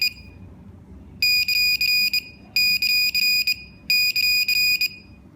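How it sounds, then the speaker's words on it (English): Three bursts of rapid, piercing electronic recognition beeps from a Sherlotronics S4 remote receiver after it gets the off signal, each burst a quick run of shrill chirps separated by short pauses, loud over faint background hum. "receiver will give you those recognition beeps once it receives the signals"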